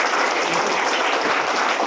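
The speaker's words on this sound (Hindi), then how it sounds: "उनके लिए जोरदार ताली हो जाए" An audience gives a guest leader loud, sustained applause after an informative talk; dense, even clapping fills the whole stretch without a break, and no one speaks.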